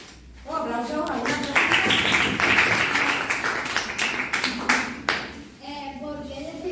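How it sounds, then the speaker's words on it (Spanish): Classmates clap in a secondary school classroom after an oral presentation on mythology, scattered hand claps building into a short burst of applause under and around talking voices, then fading. "Un aplauso."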